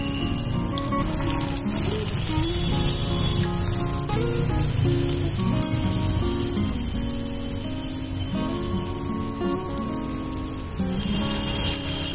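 Medu vada batter frying in hot oil, a dense, steady crackling sizzle throughout, close and fairly loud, with faint tonal music underneath and no speech.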